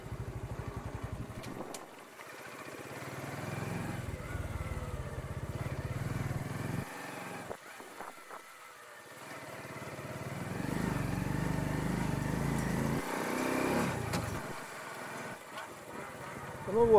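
A motorcycle or moped rides along a street at steady speed while the rider learns to ride, its engine drone rising and falling with throttle changes and a few brief dips, close and fairly loud throughout.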